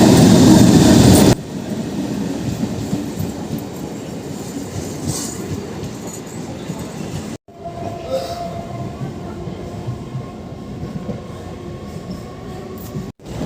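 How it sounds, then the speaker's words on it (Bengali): A moving train on an early-morning journey rumbles steadily and loudly throughout, with a dense rolling clatter and a brief dropout partway through. No one speaks. "বন্ধুরা ট্রেন এখন যাচ্ছে"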